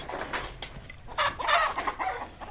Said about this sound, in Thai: ไก่มีประมาณหกสิบตัวเนาะ